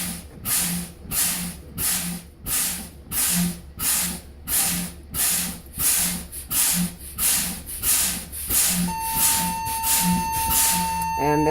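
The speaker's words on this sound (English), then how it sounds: "I should get my low air warnings and buzzers at right around 70 pounds" A truck's air brakes are bled down in rhythmic hissing bursts, about a dozen evenly spaced pumps, until a steady low-air warning buzzer starts near the end and keeps sounding.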